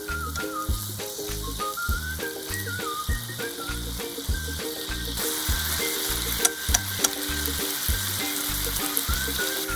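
Minced pork cooked in BBQ sauce sizzles steadily in a pan while being stirred for a Japanese rice bowl dish, a continuous close frying hiss with a rhythmic utensil scraping, and no talking.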